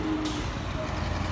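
Busy city street traffic in Novosibirsk, Siberia, beside five-storey buildings and an outdoor KFC: a steady, loud broadband rumble of trucks and buses with a brief brake hiss, no pauses.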